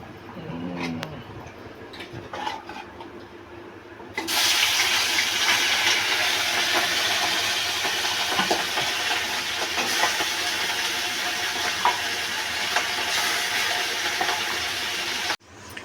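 Bata fish simmering in a spicy poppy-seed paste curry with green chillies gives off a steady, fairly loud hissing bubble that starts abruptly after a few quiet seconds and continues evenly, with no talking.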